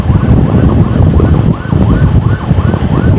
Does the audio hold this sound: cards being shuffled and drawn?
no